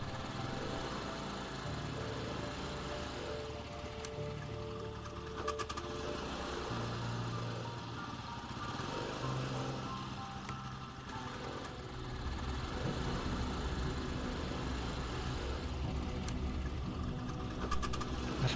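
A small motor scooter carrying three riders putts along steadily in a cartoon scene, its buzzing engine drone continuous and moderately loud for the whole stretch, with a faint music-like bed underneath.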